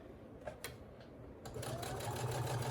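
A sewing machine stitches curves on a fabric dog bone project. Its motor runs up close in short bursts at first, then settles into a steady, louder hum of stitching.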